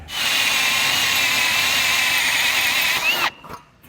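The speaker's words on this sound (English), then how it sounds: "we're just going to drill it out" A power drill whines steadily at high speed for about three seconds drilling out a hole on a 2011 Jeep Patriot, then cuts off abruptly and spins down.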